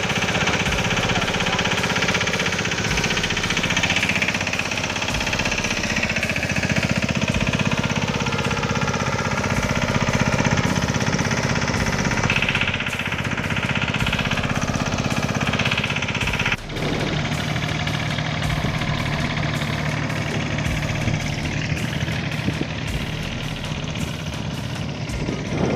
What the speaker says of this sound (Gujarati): ચાલુ કરી દીધી છે વાવણી બરોબર. રિક્ષા હાલે છે અત્યારે શાહમાં.